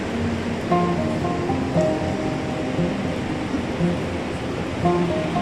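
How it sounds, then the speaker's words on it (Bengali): Sea waves breaking at Rushikonda beach, a continuous broad wash of surf heard from some distance, fairly even in level with slight swells, and no voices over it. "আর সমুদ্রের আওয়াজও শুনতে পাচ্ছ তোমরা?"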